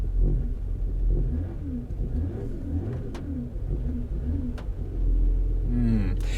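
A Mercedes R-Class engine rumbles steadily close by, sounding quite loud, and swells as it revs near the end, while pigeons coo softly in the background.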